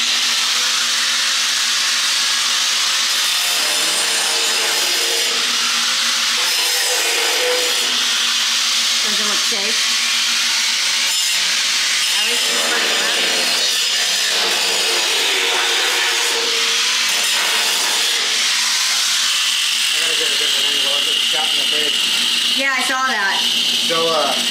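A DeWalt tool with a cut-off wheel grinds through angle iron for a trailer widening job, giving a loud, continuous high screech that wavers with pressure and runs throughout, with people talking over it.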